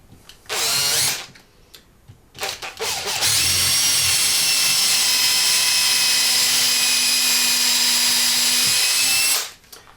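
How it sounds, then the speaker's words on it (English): A power drill drilling into wood whirs steadily for several seconds after a couple of short bursts, with a loud, sustained high-pitched whine that cuts off near the end. "once the hole is drilled, pop my screw in and then just tighten up"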